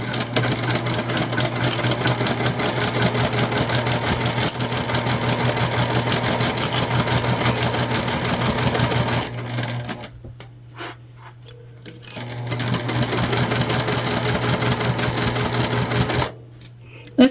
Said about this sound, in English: we're gonna sew all the way around till we make it back to our other dot